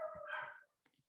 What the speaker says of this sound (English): you can probably hear my little dogs in the background